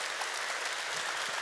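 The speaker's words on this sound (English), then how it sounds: "I think we need an extraordinary, large, massive round of applause for our speaker, Geoff." Sustained applause from a conference audience at Brain Bar after a speaker's talk, a dense, steady wash of many hands clapping with no break.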